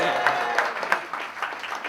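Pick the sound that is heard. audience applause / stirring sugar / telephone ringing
audience applause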